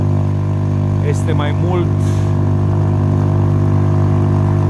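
A Honda 2.3 hp outboard motor drives a Kolibri 3300 canoe on the Danube, holding a loud, steady drone throughout while someone speaks briefly over it.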